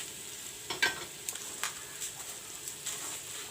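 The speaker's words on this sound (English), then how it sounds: "Now I will put in the rice." Washed rice going into a frying pan for soya rice: a soft hiss of frying underneath scattered light clinks and stirring scrapes, fairly faint and close, with no talk.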